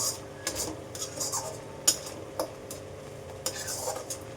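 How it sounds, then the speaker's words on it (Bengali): Bengali lote fish curry gravy being stirred in a pan, with irregular spoon scrapes and metallic clinks over a soft sizzle. "এবার তেলটা ছাড়ার জন্য নেড়ে চেড়ে করতে হবে।"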